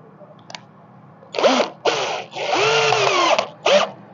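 A power drill drives a screw into tire rubber in bursts, several short whirring runs and one longer run, loud and close with no talk over it.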